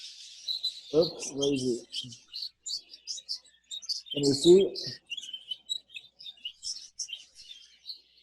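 Young budgies in an aviary chirp steadily, with many quick high tweets and chatter running throughout, while a person speaks briefly twice over them.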